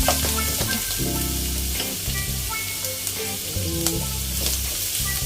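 Celery and vegetables stir-fry for pancit canton, with a continuous loud sizzle broken by scraping and clanking from the utensil, while steady tonal hum notes sound underneath.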